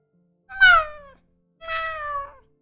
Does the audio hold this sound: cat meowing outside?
yes